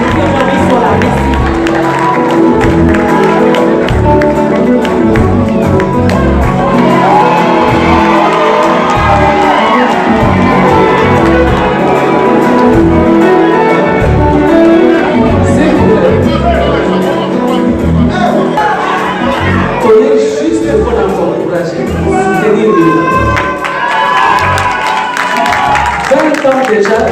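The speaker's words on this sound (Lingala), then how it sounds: "Est-ce qu'on peut l'applaudir pour ces 2 grands dames qui m'ont inspiré et qui aujourd'hui sont là." A large studio audience cheers, whoops and claps loudly for two women guests on stage at a televised talk show. The roar stays dense and sustained throughout, with voices mixed into the crowd noise.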